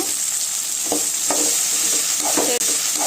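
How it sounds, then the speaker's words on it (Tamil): Okra is stir-fried with softened onion in a pan for a dry okra fry. A close, continuous sizzle runs throughout, broken by a few distinct scraping strokes of the stirring spoon. No one speaks. "இப்போ வெண்டைக்காய் சேர்த்துக்கலாங்க."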